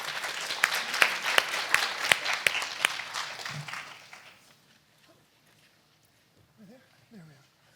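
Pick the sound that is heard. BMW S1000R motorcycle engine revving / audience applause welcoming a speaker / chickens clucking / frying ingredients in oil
audience applause welcoming a speaker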